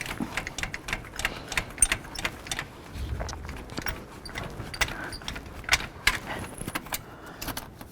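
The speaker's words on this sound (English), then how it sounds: "Wiggle the dipstick tube around." A metal dipstick tube rattles and clicks as it is wiggled inside the engine bay of a 2007-2014 Cadillac Escalade, with light metallic jangling taps coming close and irregularly.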